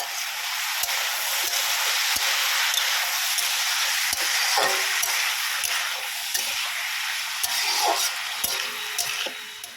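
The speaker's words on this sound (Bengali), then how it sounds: "এবার আলুগুলো ভাজে ভেজে ভাজতে হবে" Potatoes frying in a pan with chili tempering, a steady bright sizzle and hiss with occasional soft clicks of stirring, close and continuous throughout.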